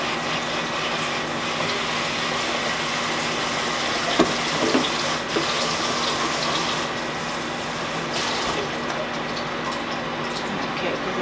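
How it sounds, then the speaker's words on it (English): Kitchen tap water runs steadily while hands are washed, a continuous close gush with faint splashing and clatter. "Wash my hands."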